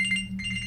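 A Samsung Galaxy Gear smartwatch plays its find-my-watch alert as a brief, close electronic trill with high pulsing tones over a steady hum, well under a second long.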